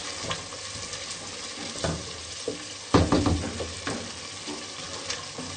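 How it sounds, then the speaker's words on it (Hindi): Sarson ka saag with green chilies sautés in a pan, giving a low, uneven sizzle with scraping stirs and a louder burst of frying partway through, heard alone without speech. "ग्रीन चिली शामिल कर देंगे। 3 से 4 मिनट हम इसको मजीद भूनेंगे।"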